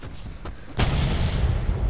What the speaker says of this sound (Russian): Фейерверки.